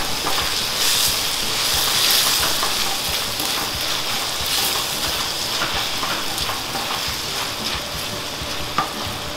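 Ripe or overripe tomatoes sizzle and fry steadily in a pan for fish sarciado, with a continuous crackling hiss and occasional sharper pops and stirring sounds, no talking.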